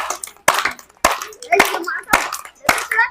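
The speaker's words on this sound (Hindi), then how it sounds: "इस बच्चे के लिए जोरदार ताली एक बार बजाइए" A village crowd at an outdoor breathing-exercise session claps for a child, with loud, sharp hand claps landing at a regular beat roughly every half second amid overlapping voices, including a child's.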